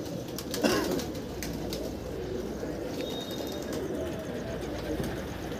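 Pigeons coo softly at a loft while a homing flock of about 66 birds circles, with a brief flutter of wings near the start over steady outdoor background noise.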